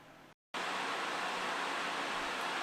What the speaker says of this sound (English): this power supply is quite loud